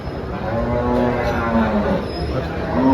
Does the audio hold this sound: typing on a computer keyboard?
no